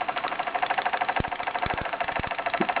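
A Merit SEL 1540 standard toy steam engine running, a quiet rapid chuffing hum with a steady mechanical rhythm and a few soft knocks and clicks close by.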